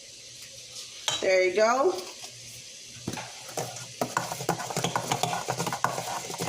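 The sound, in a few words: mixing pumpkin cake batter with ground cinnamon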